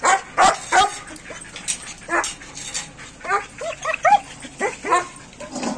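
Farm house dogs in Medchal, Hyderabad bark and yip repeatedly in quick, agitated bursts, some whimpering mixed in, fairly close and loud with brief gaps.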